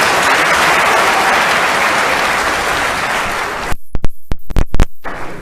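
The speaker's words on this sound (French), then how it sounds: "Applaudissez la sœur, s'il vous plaît." A conference crowd in Burkina Faso breaks into loud sustained applause that stops abruptly, leaving a few scattered sharp claps.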